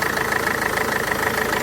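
The engine of a Renault Master mk2 van idles steadily after a lower timing gear oil seal replacement, giving a loud, close, even rumble with a rapid regular pulse and no talking.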